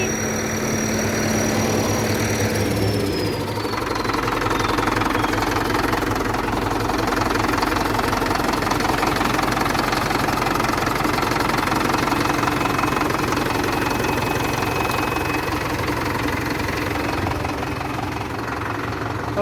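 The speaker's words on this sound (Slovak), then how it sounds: "Motor šlape, nedými." A Zetor 6901 tractor engine, started after 20 years in a barn, runs steadily at idle with a continuous close knocking chug and a faint whine fading in the first seconds.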